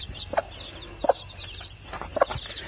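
A hen with her chicks gives three short, evenly spaced clucks, close and clear over a quiet outdoor background.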